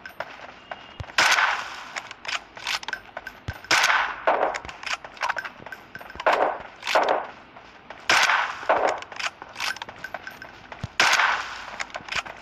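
In the PUBG Mobile game, a frying pan strikes a training board again and again, each hit a loud metallic clang with a gunshot-like crack. The impacts come in bursts and single blows, spaced irregularly, with no talking.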